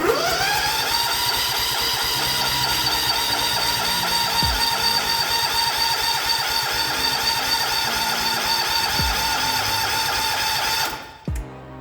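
A Kohler K341 single-cylinder engine on a 1979 John Deere 216 lawn tractor runs at a steady, close, loud idle with an even thumping rhythm for about eleven seconds, then cuts off abruptly.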